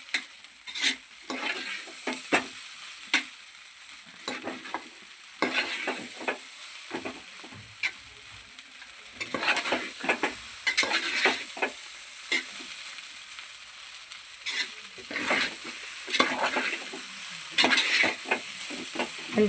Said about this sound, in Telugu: అంతా కలిసేటట్టు మళ్ళీ ఒకసారి తిప్పేసుకుందాం